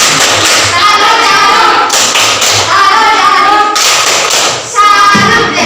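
A primary-school class claps the rhythmic 'tepuk salut' pattern in bursts of loud, sharp hand claps and taps, with children's voices chanting between the groups.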